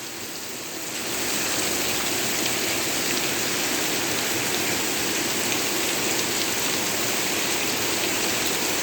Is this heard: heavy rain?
yes